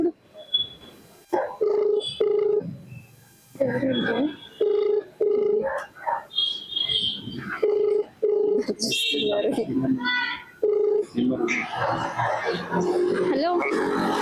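A phone call rings out over a line, with repeated ringback tones and pauses between them, while people talk nearby in the foreground before the call is answered.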